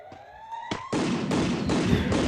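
Shotgun blasts in the mobile shooter Free Fire ring out as four or five loud, booming reports in quick succession after a couple of fainter pops.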